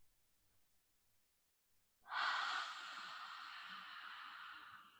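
A single long, breathy exhale during a hip stretching exercise, coming after two seconds of near silence, close and clear, then tapering off slowly.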